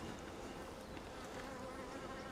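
Honey bees hum around an open hive during a spring split, a soft, continuous buzzing swarm sound that stays even and close, with individual insects drifting by and no voices.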